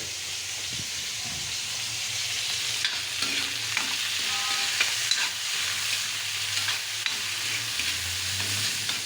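Tomatoes sauté in a hot pan with a steady sizzle and hiss as a ladle stirs them, sending scattered scrapes and clinks through the frying noise, up close with no voices.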